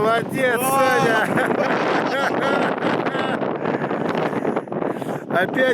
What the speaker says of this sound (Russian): Опять этот ветер, а?